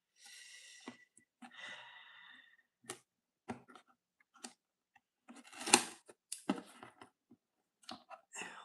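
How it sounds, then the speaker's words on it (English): Scissors snip and click in short separate bursts at close range, with soft rustling between the cuts and a quiet room behind. "Always careful with scissors."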